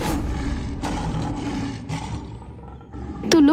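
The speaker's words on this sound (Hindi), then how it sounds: "तो वहां शेर दहाड़ रहे थे" Cartoon lions roar in a noisy animated scene, a sustained roaring texture with a sharper, louder roar bursting in near the end, no voices.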